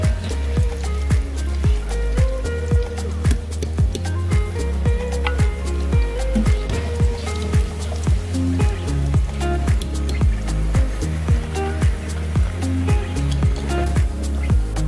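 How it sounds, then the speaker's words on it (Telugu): Homemade KFC-style popcorn chicken deep-frying in hot oil, a dense, steady crackle and popping sizzle that stays loud and close throughout with no talking. "ఇప్పుడు మనము సెకండ్ బ్యాచ్ కూడా వేసుకున్నాము. ఇవన్నీ ఒక్కటిగా దీనిలో ఇలా ఫ్రై చేసుకున్నాము."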